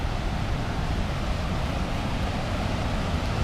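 Raging mountain creek in Lincoln Gulch, Colorado, rushes in a steady, dense roar of water, close and continuous with a little wind, with no voices.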